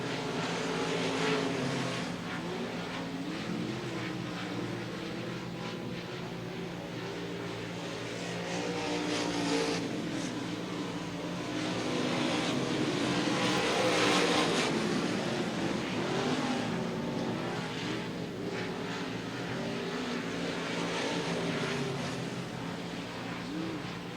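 Race cars roaring around the Devil's Bowl Speedway oval, a continuous loud engine drone that swells and recedes as the cars pass, with no voices over it.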